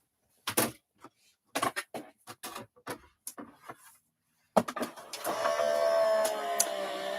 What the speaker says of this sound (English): run that through my die cutting machine